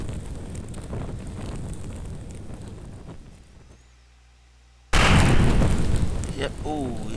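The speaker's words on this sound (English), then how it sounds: "that was... one of the other tires exploding" A car tire explodes in the BeamNG Drive video game: after rumbling wind-like noise and a near-silent gap, a sudden loud blast cuts in and holds as a dense roar.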